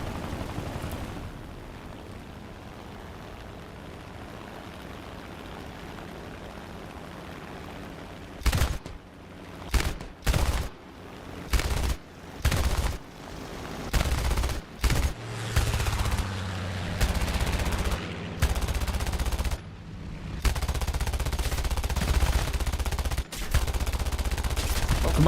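Machine gun fire in the air battle game War Thunder: after a low engine drone, repeated loud bursts of automatic fire in short and long strings, with an aircraft engine hum continuing underneath.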